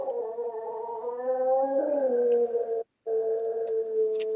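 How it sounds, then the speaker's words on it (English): A rescue dog howls indoors in a laundry room, a long, wavering, mournful tone that rises and falls over several seconds with a brief pause before resuming, loud and close. "somebody's got their dog barking"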